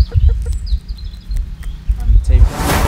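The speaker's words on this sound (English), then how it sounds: "we have a few wild range chickens here" Free-range chickens clucking and chirping outdoors in Aveiro, Portugal, several short calls scattered over a rumbling background, ending in a loud rustle of noise.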